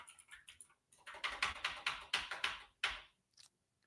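Fast bursts of typing on a computer keyboard at a streamer's desk, clattering keystrokes in quick rhythmic clusters with short pauses, close and fairly quiet.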